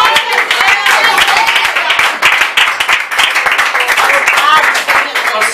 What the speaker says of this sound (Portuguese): As palmas louvem e adoram.